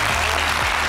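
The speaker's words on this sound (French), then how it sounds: "On applaudit pour Nadia" Brief burst of audience clapping for Nadiya Sabeh in a television studio, loud and dense, a short steady wash with a faint low hum beneath.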